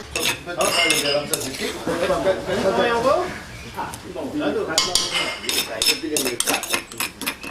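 Metal spoon and utensils clinking against a cooking pot while a pumpkin and spiced meat massalé dish is prepared, with scattered clattering and scraping throughout, mixed with people talking nearby.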